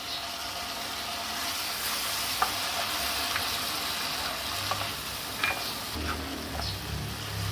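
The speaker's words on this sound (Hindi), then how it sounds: "2 मिनट और भूनेंगे हम, फिर हमारी भिंडियाँ तैयार हैं।" Okra frying in a pan with tamarind paste, a steady broadband sizzle under scattered clicks and scrapes of stirring, close and even throughout with no voices.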